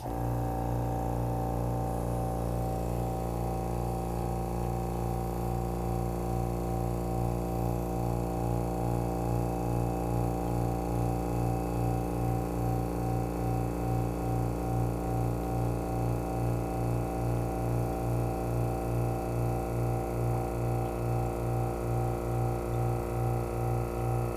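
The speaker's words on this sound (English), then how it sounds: "and turn on your vacuum." A laboratory vacuum pump for an EPA 1664 oil and grease extraction setup runs alone with a steady, loud mechanical hum and a fast, even pulsing throb that never changes.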